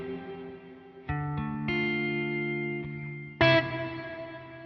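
An electric guitar runs through TONEX effects with reverb: distorted chords ring out and sustain with a washy tail, followed by a sharper, brighter strum near the end.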